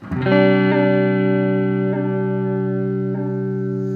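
A sustained guitar chord through a Chase Bliss Audio Warped Vinyl MKII pedal, with a slow, smooth pitch wobble like a warped record, ringing steadily with a few soft re-attacks.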